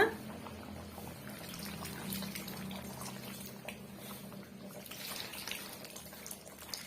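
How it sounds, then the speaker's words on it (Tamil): Dissolved tamarind water pouring into a boiling okra and dried-fish village curry, a soft, steady watery pour and bubbling heard close but faint, with no speech. "இப்போ இந்த ஸ்டேஜ்ல நம்ம கரைச்சி வச்சிருக்க புளிய வந்து நம்ம சேர்த்துக்கலாங்க"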